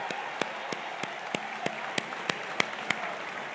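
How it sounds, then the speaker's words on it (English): A crowd at a political address on economic opportunity gives distant, steady applause, with louder individual claps standing out at a regular rhythm, a bit over three seconds long. "a round of applause would be very much appreciated"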